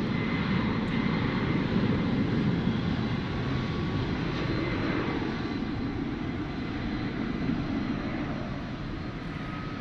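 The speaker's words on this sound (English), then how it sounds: "Let's see where this MD-11 goes." An MD-11 airliner passes near Dallas-Fort Worth airport, a continuous heavy engine rumble holding steady and loud throughout, with no voices over it.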